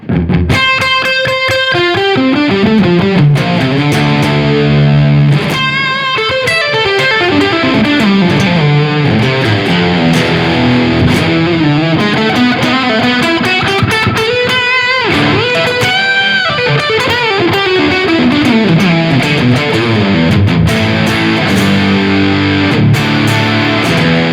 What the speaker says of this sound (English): we're going to put the stereo delays from the MPX1 on. And this time there's no modulation on them. They're on the tape echo setting